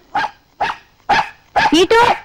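A dog barks four times during a comedy film scene, each bark short and loud with brief gaps, the last two coming quicker and more drawn out.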